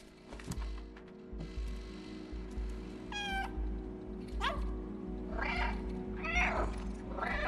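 A cat meows repeatedly in the video game Stray, several distinct rising and falling calls over a steady mechanical hum, close and fairly loud.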